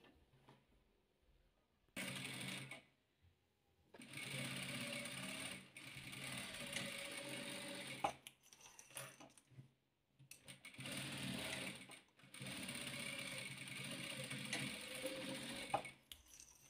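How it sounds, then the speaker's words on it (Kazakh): A sewing machine stitches quilt fabric pieces for a 3D quilt, running in several bursts of rapid, steady mechanical chatter separated by brief quiet pauses. "Енді мындай жарты сериімізға жарты қызылымызды дәл мынадай алып тігіп аламыз."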